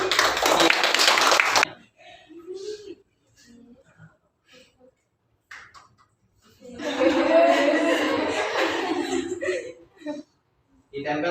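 Students in a classroom microteaching lesson clap their hands: a teacher's voice comes first, then a burst of clapping swells for a few seconds and fades, with a little chuckling mixed in.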